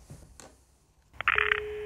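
Telephone keypad tones beep in a quick cluster of several presses, followed by a steady held tone, heard close and alone after faint background noise.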